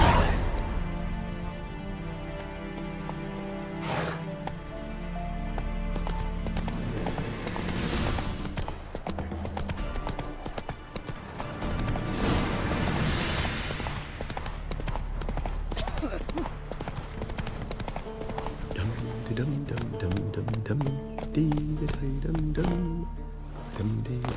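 Roach the horse galloping in The Witcher 3, steady rhythmic hoofbeats running under frequent talking, with crashes and clatter mixed in along the way.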